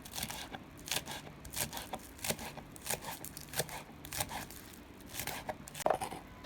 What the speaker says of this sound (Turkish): Şimdi yarım demet taze soğanımız var. Küçük küçük doğrayalım.